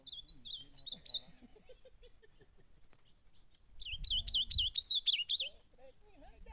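Blue grosbeaks (azulão) chirping in a bush, quick warbling phrases at the start and a louder burst near the end, with someone speaking briefly and some low rustling in between.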